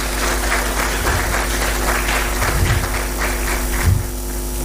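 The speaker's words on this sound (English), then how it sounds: "let us give them another round of applause" Audience applauding at a diplomatic conference of heads of mission and envoys in Ghana, a steady moderate clapping over an electrical mains hum, fading slightly toward the end.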